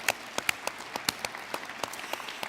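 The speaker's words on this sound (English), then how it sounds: "How about a round of applause for the machine shop?" Audience at a 2023 Chamber of Commerce awards event applauds, sparse individual claps standing out sharply over a softer bed of clapping, moderately loud throughout.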